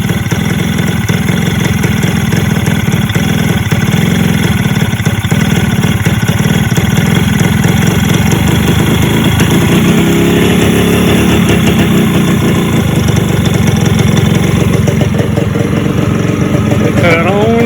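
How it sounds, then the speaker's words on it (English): A rebuilt Yamaha RXZ two-stroke motorcycle idles near 1300 rpm with no air filter, just after its first start, a steady loud buzzing engine note running the whole time. "First big question was whether it would start,"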